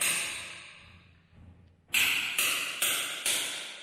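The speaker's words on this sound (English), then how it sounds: "checking all the remaining parts that are hollow. You can feel it when you knock the floor down" Faint scraping fades out, then four sharp hollow knocks on floor tiles ring out at a steady rhythm, close by, each with a brief resonant decay.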